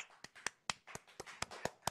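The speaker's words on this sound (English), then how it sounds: "We're still clapping." A small studio audience of people clapping, sharp hand claps landing in an irregular steady rhythm, close and fairly loud with no voices.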